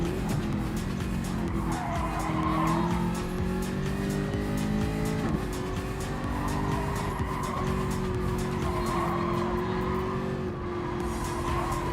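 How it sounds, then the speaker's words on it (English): A Jaguar race car engine in GT Sport drones steadily at high revs at Fuji International Speedway, its pitch shifting slightly with gear changes and tire squeal, no voices present. "the Jag does sound good. This is one of the better sounding cars in the game"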